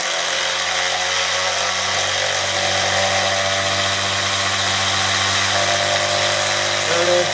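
An electric motor spins at about 5,800 RPM on 24 volts, giving a loud, steady whine and hum with vibration that holds constant throughout, with no talking.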